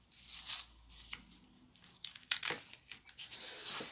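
Scissors cut around a diamond painting canvas for framing, producing a series of close, crisp snips and papery crinkles, irregular and fairly soft, with some rustling as the material is handled.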